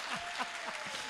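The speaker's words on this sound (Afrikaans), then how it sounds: "Kom ons klap weer hande." Church congregation clapping hands in steady rhythm, about four claps per second, a brief burst of sharp, moderately close applause with a faint voice underneath.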